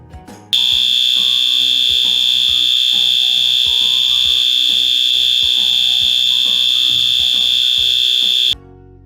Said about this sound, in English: Now, listen to what a fire alarm sounds like.